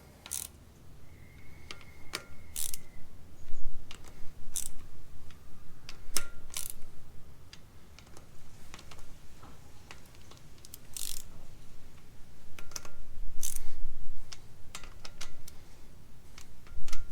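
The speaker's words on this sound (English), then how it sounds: "I'm going to use a 1/4 inch ratchet. Same deal as before, we're going to work in a crisscross pattern when it comes to torquing them up." Quarter-inch ratchet snugging the bolts on Aisin free-wheel hubs of an Isuzu D-Max, giving brief bursts of quick clicking and metallic clinks spread over the stretch, close by, with no talking.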